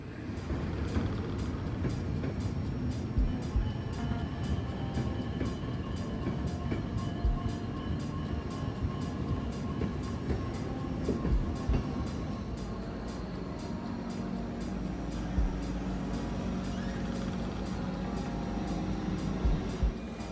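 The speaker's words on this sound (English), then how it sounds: "And here's our train now, arriving around 20 minutes prior to departure." ÖBB Nightjet sleeper train pulling into a station, a continuous loud low rumble of wheels and carriages with steady rhythmic clacking over rail joints, with no voices.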